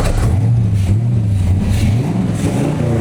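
LS V8 engine fitted with three lawn mower carburetors revving loudly and close, its pitch rising and falling through several throttle blips in a rough, continuous roar.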